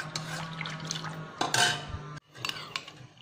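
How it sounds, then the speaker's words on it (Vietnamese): Calamansi juice going into cooled fish sauce in a kitchen: light clinks of spoons and dishes with brief liquid splashes and trickles, close and moderately loud, with a sharper clatter midway. "Nước mắm đã nguội rồi mình sẽ cho nước tắc vào."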